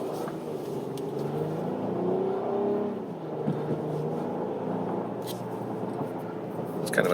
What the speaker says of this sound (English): obviously you hear a lot of engine, and it's definitely holding gear